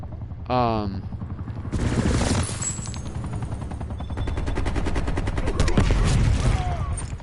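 Sentry turret in Call of Duty: Black Ops firing sustained rapid automatic bursts, loud and dense over several seconds, with a brief electronic sweep at the start and explosions mixed into the barrage.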